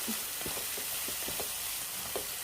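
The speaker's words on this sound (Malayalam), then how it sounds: "ഇതിലേക്ക് ഈ തക്കാളി സവാളയും കൂടിയിട്ട് ഇട്ട് മൂപ്പിച്ചെടുക്കാം." Tomato and onion fry in hot oil in a pan, a soft steady sizzle with occasional light stirring scrapes, close and fairly quiet, no talking.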